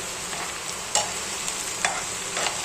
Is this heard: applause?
no